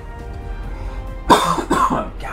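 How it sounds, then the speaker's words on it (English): A few harsh coughs burst out in quick succession after a quiet stretch, loud and close, from a character in a Kingdom Hearts 3 playthrough. "I've still got my cough"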